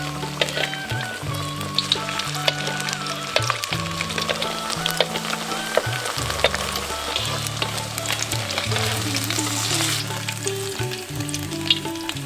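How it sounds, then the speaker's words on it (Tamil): Paneer fries in hot oil until golden, a loud, dense, continuous sizzle and crackle close up, with low tonal hum beneath and no talk. "நம்ம தயார் செஞ்ச பன்னீரை எண்ணெயில போட்டு பொன்னிறமா ஆகிற வரைக்கும் பொரிச்சு எடுத்துக்குவோம்."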